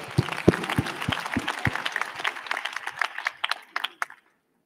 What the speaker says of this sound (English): I think we should give them a round of applause.